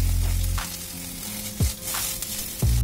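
Chicken pieces sizzle and fry steadily in a pan as ginger-garlic paste goes in, a continuous close hiss broken by a few louder stirring scrapes, with no talking.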